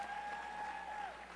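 Audience applause fills a large hall at a United Nations International Women's Day event, a steady, even wash of clapping heard at a moderate distance with a thin sustained tone running through it.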